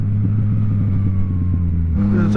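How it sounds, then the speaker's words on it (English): A 2018 Yamaha MT-09 motorcycle engine idles with a deep steady rumble, then blips its throttle near the end, revving up sharply close by; redline is about 11,000 RPM. "It's a much higher revving motor."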